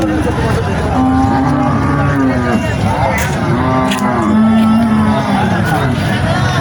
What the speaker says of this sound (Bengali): আজকে বাজারে একটা মহিষ আসছে